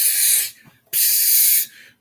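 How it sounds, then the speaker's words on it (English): Two loud, sustained bursts of glutathione face spray, each about half a second to three-quarters of a second long, with a short pause between them and a quieter hiss trailing off after each. "I'm going to spray it everywhere"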